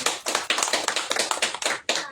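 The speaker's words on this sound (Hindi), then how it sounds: "ताली बजा सकते हैं।" A group claps hands together in a quick, steady rhythm, about eight sharp, close claps over two seconds with no talking.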